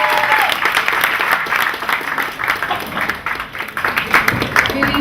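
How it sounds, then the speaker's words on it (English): A crowd at a launch event gives a performance poet warm, sustained applause, loud and continuous with a few scattered cheers mixed in. "So can everyone please give a warm, big round of applause for EST Poetry."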